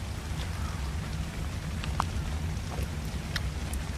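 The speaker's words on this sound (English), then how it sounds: "Why is it raining in my house?" Rain falls on a house in the video game Ark Survival Evolved as a steady, soft patter of drops with a few brighter taps over a low rumbling background, no speech.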